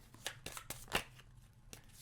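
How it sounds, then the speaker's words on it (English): A few quick riffling bursts of a card deck being shuffled for the Tiny Towns board game, soft and close, with short pauses between the snaps. "I'm going to shuffle the resource deck,"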